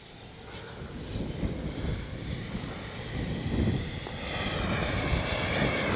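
A small jet engine of an FMS Rafale 64mm RC model jet whines and roars steadily louder outdoors, with wind noise underneath, building as it powers up for takeoff.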